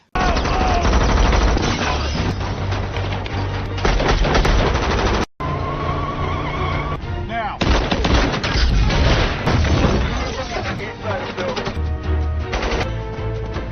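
An action film shootout brings dense, loud machine-gun fire and gunshots with occasional booms, almost continuous over a tense music bed, with a narrator speaking over it.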